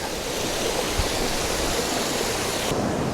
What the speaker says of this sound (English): Waterfall follows on up.